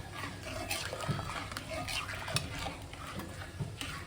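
Semolina for Karachi halwa is stirred in a pan, giving soft repeated scraping and knocking strokes at a steady rhythm under a constant background hiss, fairly quiet and close.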